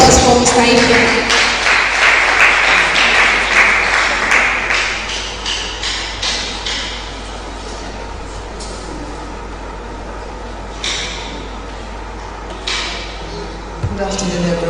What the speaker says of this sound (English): A round of applause for Mr. Ifeanyi.